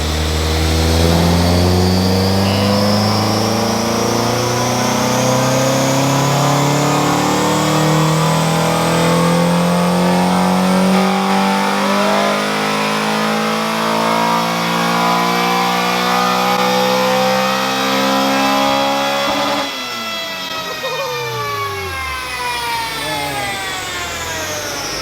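A Honda Type-R engine revs hard on a dyno, its loud, continuous wail climbing steadily in pitch through the gears. The pitch drops sharply near the end as it shifts or lets off, then the whine keeps going.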